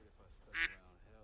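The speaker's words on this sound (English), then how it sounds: "Now the quack sound just came out to me." A single loud, bright duck quack sound effect bursts out briefly amid a live stream's background chatter and low room noise.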